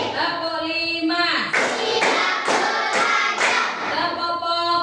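Schoolchildren in a classroom recite a teacher-led clap chant, their voices joined in a sing-song unison broken by a run of five crisp, evenly spaced group claps.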